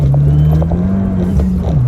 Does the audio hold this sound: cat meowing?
no